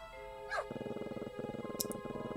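A cat barking like a dog in the video game Gibbous, a Cthulhu adventure, gives a quick series of soft, rhythmic barks after a short yelp, quiet and alone.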